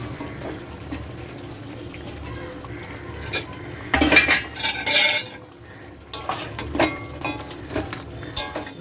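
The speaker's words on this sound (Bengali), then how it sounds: "কাঁটাগুলো নেড়ে মশলার সাথে মিশিয়ে দেবো।" Bhetki fish bones being stirred with spices in a metal pan, with clattering utensil scrapes and knocks in irregular bursts, loudest around the middle, over a low kitchen background with faint liquid sounds.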